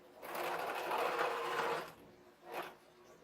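A sewing machine back stitches drool pads with zorb fabric, running steadily for about two seconds, then a short separate burst of stitching, close and fairly quiet, with no talking.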